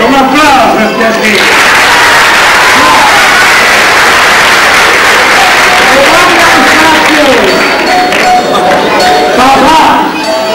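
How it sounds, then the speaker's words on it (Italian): An audience at a family celebration breaks into loud, sustained applause with cheering and crowd voices. The clapping is dense and close, and ringing tones sound through it. "un applauso per te"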